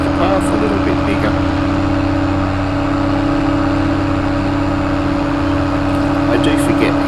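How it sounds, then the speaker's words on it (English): A tractor engine in Farming Simulator 22 drones loudly and steadily with a constant mechanical hum, running without pause throughout. "I do forget how noisy this tractor is"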